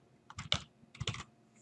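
A stock symbol being typed on a computer keyboard: two quick clusters of close, crisp key clicks, a few taps each, with a short pause between.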